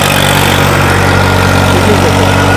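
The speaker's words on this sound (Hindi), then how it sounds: "लगभग 150 RPM ड्रॉप करके ट्रैक्टर चल रहा है" A Massey Ferguson 241 or New Holland tractor engine runs with a loud, steady, low droning hum close by, holding one even pitch throughout with no talking.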